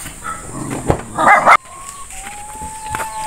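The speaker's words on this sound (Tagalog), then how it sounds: "Naku, daming aso." At a farm, a dog barks sharply a few times close by, followed by a thin high whine and quieter background noise.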